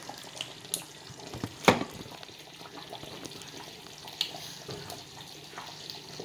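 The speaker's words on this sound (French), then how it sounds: "Là, ça bouillit." Water boils in a cooking pot in a home kitchen, a faint, soft bubbling and hiss with a few louder pops and splashes.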